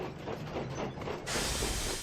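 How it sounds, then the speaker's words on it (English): A cartoon steam engine gives a faint hiss and rumble, then a louder, sharper burst of steam hisses out and holds steady near the end. "When that burns brightly and his steam puffs proudly, Henry is as fast and as strong as any engin"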